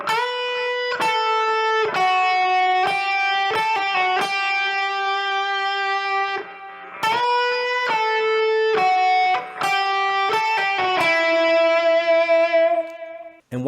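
An electric guitar plays a melodic riff of sustained, singing notes in two phrases with a short break between them, clear and alone.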